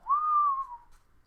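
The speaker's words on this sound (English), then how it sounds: "I don't know why I whistled for West Virginia." A single clear human whistle, one sustained rising-then-falling note lasting under a second, close and alone in a quiet room.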